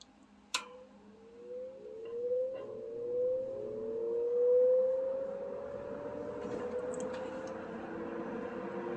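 A Kenmore 14-inch box fan starts up on low speed: a faint motor hum climbs gradually in pitch over several seconds, then settles into a steady drone.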